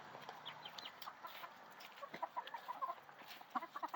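A busy flock of big chickens and six-week-old chicks clucks steadily, soft overlapping calls with a few sharper peeps close by, continuing throughout without any talking.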